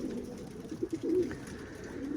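Pigeons of the soapy variety, kept as a breeding pair with young, coo softly in a loft, a few low throaty murmurs rising over a muffled steady background hum.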